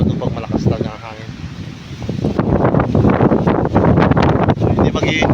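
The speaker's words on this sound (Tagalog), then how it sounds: "Ito yung pangit dito sa Sibing Komando pag malakas talaga ang hangin." Strong wind buffets the microphone at Seven Commando Beach, a loud, rough rushing roar that swells and gusts throughout while someone talks over it.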